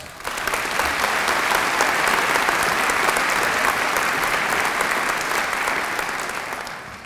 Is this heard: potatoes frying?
no